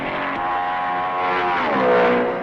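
Ferrari race car at the 1955 Spa Grand Prix, its engine roaring steadily with a strong harmonic whine that swells and shifts in pitch as it accelerates, heard alone on an old recording.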